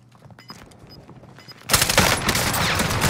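Gunfire in a video game: after a quiet stretch with a few faint ticks and steps, a sudden loud, close burst of rapid shots erupts and keeps rattling to the end as the player is hit from behind.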